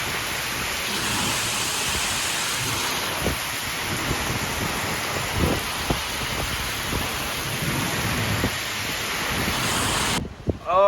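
Heavy rain pours down steadily in rural Punjab, a dense, loud, continuous roar with low rumbling thunder underneath, and a brief disturbance near the end.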